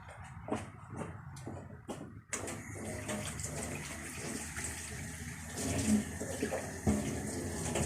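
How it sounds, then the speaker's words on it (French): Tap water runs steadily as a face is rinsed, a continuous close splashing rush starting partway through after a few soft knocks and shuffles. "je vais leur rincer le visage"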